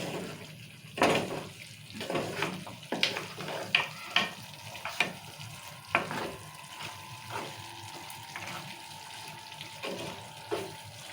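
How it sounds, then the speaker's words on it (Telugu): Steady sizzling of mutton curry in a pan with chili powder just added, repeated scraping and stirring strokes, a soft continuous hiss underneath and faint talk at times. "ఇప్పుడు కారం వేసాం కదా కారం మంచిగా కలుపుకుందాం"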